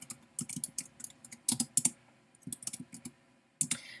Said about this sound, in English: So I'm typing in students' names